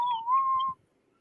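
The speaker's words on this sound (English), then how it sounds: "Somebody whistling." A person whistles one short, steady, clear note that lasts under a second and then stops, leaving quiet with no voices.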